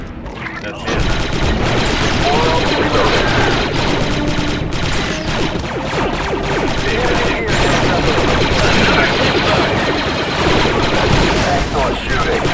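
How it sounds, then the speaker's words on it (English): Sustained gunfire from blasters and weapons in Star Wars Republic Commando, a dense, continuous barrage of loud shots and crashes running nearly the whole time, with voices talking over it. "Excellent shooting."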